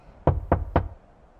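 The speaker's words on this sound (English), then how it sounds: "You won't be for much longer if you don't stop knocking." Three sharp knocks on a door in the point-and-click adventure game Lost Chronicles of Zerzura, evenly spaced about a quarter second apart, loud and close with no talk.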